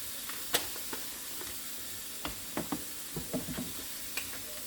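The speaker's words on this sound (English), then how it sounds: "we're just going to mix all this up together and let the meat brown" Seasoned ground meat, with Worcestershire sauce, garlic powder and onion powder, browning in a pan: a soft continuous sizzle broken by scattered scraping stirs and light utensil knocks, fairly quiet and close.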